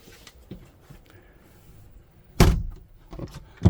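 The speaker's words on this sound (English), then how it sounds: "Close the door" A bathroom door in a compact Wingamm Oasi 610M monocoque motorhome swings shut with a loud, close slam, followed by a second solid thud after soft rustling and small handling noises.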